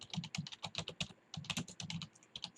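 Fingers type on a computer keyboard in a quick, uneven run of close, clicky keystrokes with a brief pause midway, no voices.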